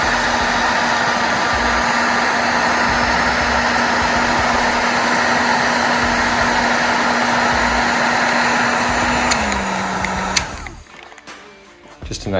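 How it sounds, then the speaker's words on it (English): A heat gun blows a loud, steady whirring drone while shrinking heat wrap over male-female wiring connectors on an LT500R quad build. Its pitch drops near the end before it cuts off abruptly. "I heat wrap it all."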